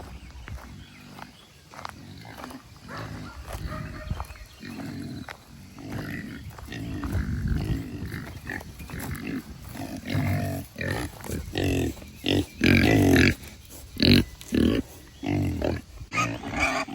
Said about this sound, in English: Here come the pigs.